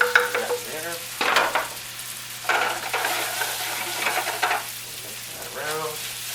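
Garlic, flour and butter mixture stirred in a hot pan on the stove, with a steady sizzle and bursts of scraping spoon strokes against the pan, close and fairly loud.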